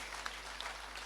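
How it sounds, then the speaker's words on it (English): Faint, distant applause rises from an audience at a SheForShe event celebrating women in tourism, a soft continuous patter of many hands with a few sharper claps standing out. "I think we can have a big round of applause for what we've heard on stage"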